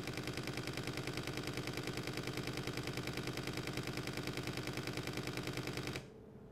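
A camera with a Lexar CFexpress card firing a continuous RAW plus JPEG burst, its shutter clattering in a fast, steady machine-gun rhythm for about six seconds before stopping abruptly, loud and close with no talk.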